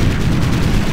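Heavy battlefield gunfire from the strategy game Ground Control 2, a dense, loud, continuous rumble of shots and booms with no gaps across the whole second.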